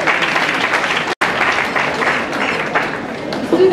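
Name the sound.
audience applauding at a lecture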